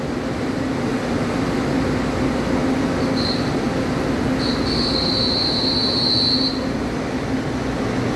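EMU507 and EMU502 electric multiple unit trains departing as a regional express on the Yilan Line, a steady close rumble of rolling wheels with a sharp, sustained wheel squeal rising partway through.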